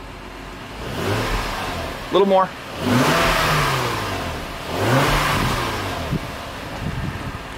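An Acura MDX engine with a K&N air filter revs up and settles twice, a throaty exhaust note rising and falling close by, with a brief voice speaking between the revs.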